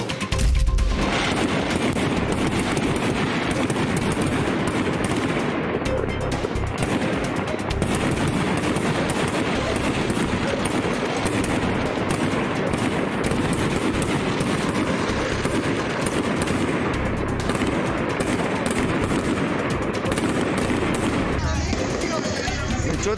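Dense, sustained bursts of gunfire and crackling fireworks at a high-risk funeral wake in San Ramón, a loud continuous barrage of overlapping shots with no pause throughout.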